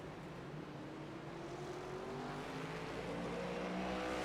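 Engines of several race cars in a racing video game at Atlanta Motor Speedway roar and rev continuously in a dense, loud blur, pitches rising as they speed past.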